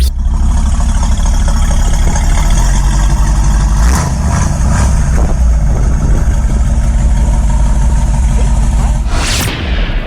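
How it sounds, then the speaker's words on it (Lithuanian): A Ford Mustang V8 engine runs loud and close for about ten seconds, a steady deep rumble with a few brief swells in revs partway through, played as a sound clip in a television quiz. "Ford Mustang amerikietiškas 8 cilindrai, taip."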